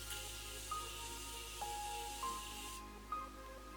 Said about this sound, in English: I'm going to give a nice spray the house down with the Morphe